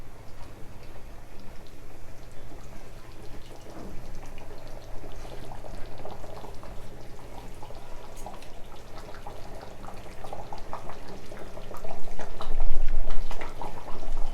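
A pot of Nellore fish curry, chepala pulusu, bubbles on high heat with a continuous close simmer of popping and gurgling that swells slightly near the end.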